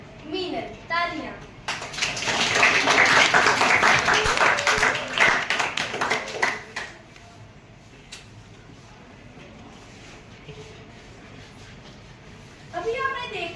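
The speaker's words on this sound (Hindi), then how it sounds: "तालियां।" A school audience of students claps for the winner of a class 8 poetry contest staged as a play, a dense burst of applause that fades to scattered claps, with children talking before and after.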